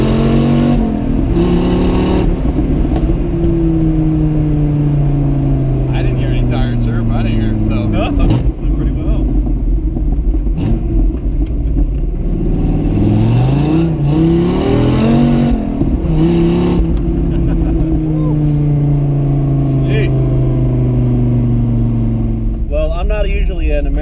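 A car engine revs up repeatedly in low gear, pitch climbing in long sweeping pulls, loud and close, with a voice talking over it.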